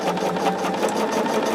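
A sewing machine runs steadily, stitching fabric strips of a jelly roll quilt in a fast, even, close-up whir with a rapid needle rhythm and no pauses.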